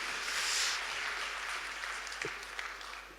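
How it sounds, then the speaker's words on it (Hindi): A short burst of audience applause at a Hindi poetry recital, steady clapping from a crowd that swells early and then gradually thins out, with no speech over it. "2-4 लोग मेरे लिए ताली बजा दें"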